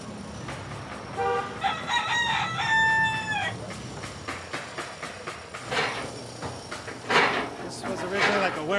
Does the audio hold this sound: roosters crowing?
yes